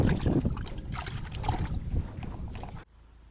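Strong wind buffets the microphone in loud, rumbling gusts at an outdoor fishing spot in Vilkhivtsi, Ukraine, then cuts off abruptly into near quiet.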